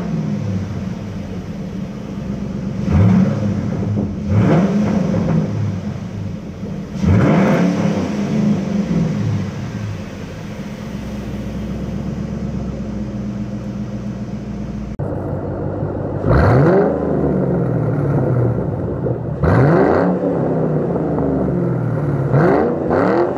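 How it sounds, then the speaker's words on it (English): A 2008 Mustang GT with the 4.6L three-valve V8, heard from inside the cabin, revs up in several loud rising sweeps over a steady rumbling idle, with no talking. "We'll go ahead and give it a few revs here."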